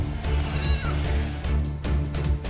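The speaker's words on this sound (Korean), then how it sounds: "우리의 양과 염소들이 일제히 울기 시작했다" Sheep and goats bleat together in a pen on a Mongolian nomad's winter camp, several overlapping loud wavering cries repeating close by.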